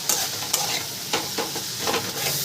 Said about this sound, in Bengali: এবার এর মধ্যে আমি দিয়ে দেবো ডিমের ভুজিয়াটা দিয়েও একটু কষে নিচ্ছি।